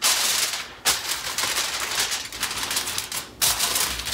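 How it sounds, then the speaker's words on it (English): Aluminium foil is crinkled and pressed over a baking dish of overnight blueberry cream cheese French toast, making loud, dense crackling rustles in several bursts with brief pauses, close up and without talk. "All I'm going to do is pop some foil on the top of it."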